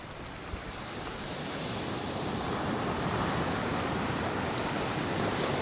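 Ocean surf breaking along the beach at Cambaie, Réunion, at dusk: a continuous broad wash of waves, steady and fairly loud, building slightly, with some wind and no voices.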